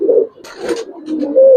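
Giribaz pigeons give a short, close coo with a brief rough burst in the middle, loud and clear against a quiet background.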